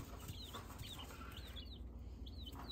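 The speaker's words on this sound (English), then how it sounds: "one of the turkeys was sitting on my hand." Baby turkeys chirping in a brood area, a series of short, high, rising peeps scattered over a steady background hum, fairly close and moderately loud.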